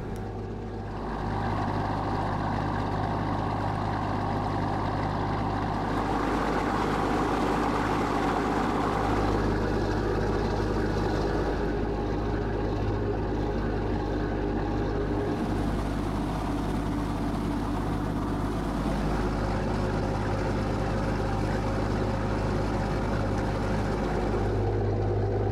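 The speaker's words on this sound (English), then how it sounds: "This ferry, North Stream, is heading out at around 18 knots, and she's followed by a couple of other ro-ros" The ferry North Stream heading out at about 18 knots, heard as a steady, loud low engine drone with a constant rumble of water that holds evenly through the whole stretch, with no voices.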